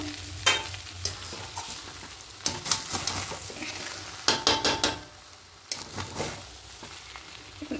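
A spoon scrapes and clanks around a pot of kacchi biryani made with Gobindobhog rice, irregular stirring bursts over a soft sizzle, close and fairly quiet between strokes.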